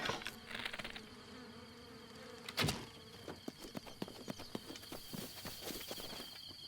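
Bees buzzing in the video game Breath of the Wild, a steady insect drone with scattered footstep-like thuds and clicks layered over it, fairly quiet.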